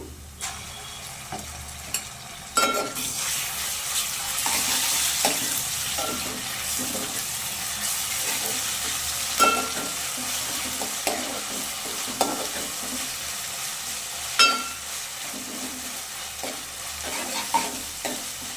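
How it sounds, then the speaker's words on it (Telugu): Ginger paste frying and being stirred in a pan: continuous hissing sizzle with repeated scraping clicks of a spoon against the pan every second or two, close and clear, no talking. "పచ్చి వాసన పోయే వరకు అయితే ఎంపుకోవాలండి బాగా."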